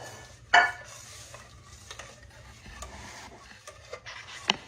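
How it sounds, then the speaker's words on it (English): A spoon stirring filling in a pot on the stove for a creamy chocolate pie, with soft scraping and a couple of sharp metal clinks, close and without talk. "let's stir that around good"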